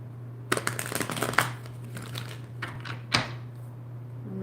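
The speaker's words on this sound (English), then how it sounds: "Let's just shuffle one more time here." Tarot cards are shuffled close by in quick riffling bursts, followed by a few softer slaps and one sharp snap, over a faint steady hum.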